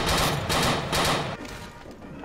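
Shotgun blasts ring out in a video game, a few loud heavy booms in close succession that fade into a quieter rumbling tail.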